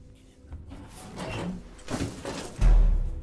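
A door slams shut in the sci-fi horror video game Alien Isolation, a single heavy thud near the end after some soft rubbing and sliding sounds, with faint voices in the background.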